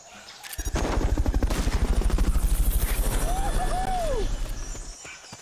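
Helicopter from the Fulton recovery sequence in the video game Metal Gear Peace Walker, a loud, steady rotor chop pulsing rapidly through the whole stretch, with a pair of rising-falling tonal whooshes near the end.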